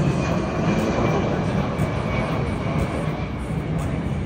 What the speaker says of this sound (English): It's a big airplane, Rick. Two big airplanes.